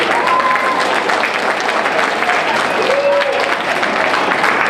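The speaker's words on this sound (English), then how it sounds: "we should get a round of applause for that" Audience of parents and friends in a school auditorium applauding student performers, sustained even clapping with scattered voices and a whistle in the crowd.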